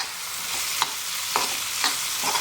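A spoon stirs ground peanut powder into a frying pea curry on a tawa, with a steady sizzle under a few distinct scraping strokes of the utensil against the pan; nobody talks.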